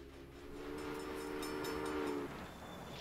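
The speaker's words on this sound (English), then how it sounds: "Go, little train. You can do it." A train running in the railway management game Railway Empire gives a steady rumble with a sustained horn tone lasting about two seconds, then the rolling noise continues alone. The sound is quiet and distant, with no talking.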